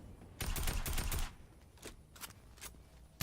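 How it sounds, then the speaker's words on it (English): Gunfire in the video game Fortnite during a competitive match: a rapid burst of automatic fire, then several separate single shots, moderately quiet in the mix. "And they're just unleashing a hail of gunfire here."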